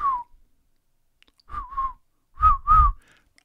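Someone tries to whistle, producing three short, breathy, wobbly whistle attempts separated by silence, the later ones paired and slightly stronger.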